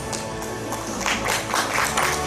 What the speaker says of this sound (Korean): 박수 좀 부탁드리겠습니다.